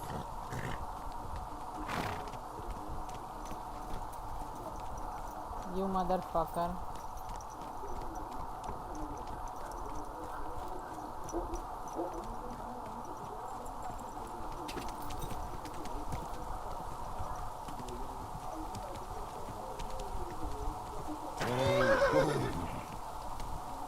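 Horse whinnies in a medieval-setting video game, with a couple of louder neighs standing out near the start and end over a steady ambient bed and scattered hoof sounds, alongside a voice.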